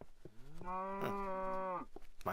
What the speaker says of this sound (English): Oh, looks like my cow disappeared in there.